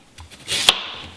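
A kitchen knife cuts celery into strips on a board, a couple of soft taps and then one sharp, crisp slice, close and clear, with no talking.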